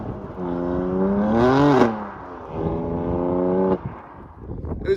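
A BMW M4 launches hard with traction control switched off, its engine rising in a loud, close revving sweep that peaks, drops briefly, then climbs again in a second strong pull before cutting off.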